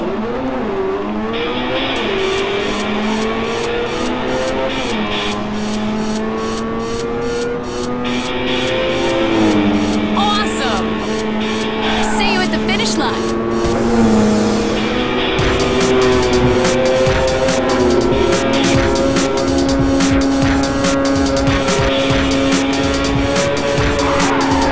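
Race car engines roar and rev at the start of a Ridge Racer 7 race, loud sustained whines rising in pitch with tire squeal and skidding, layered over game music.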